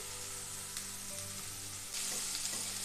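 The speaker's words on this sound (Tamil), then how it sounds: "இப்போ தக்காளியை போட்டுடலாம் கொஞ்சம் கருவேப்பிலையை போட்டுக்கலாம்" Tomatoes and curry leaves fry steadily with onions in a pan for an egg masala scramble, a continuous close sizzle that grows louder and brighter near the end.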